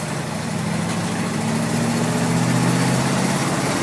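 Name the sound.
1973 Ford F100 truck engine while driving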